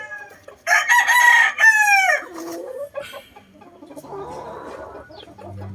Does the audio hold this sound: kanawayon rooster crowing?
yes